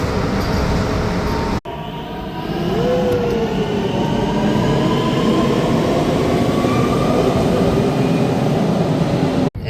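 An Istanbul metro train rumbles loudly and steadily on the move, with a brief dropout early on and a faint squeal rising over the constant roar.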